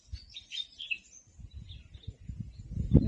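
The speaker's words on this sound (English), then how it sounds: "There is the mother bird crying hard." A mother peahen calls repeatedly in thin, high cries early on, fairly distant, over low rumbling handling noise and a louder thump at the end.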